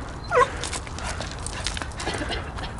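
One small dog yips once, sharp and close, then gives softer whimpering sounds amid a busy room.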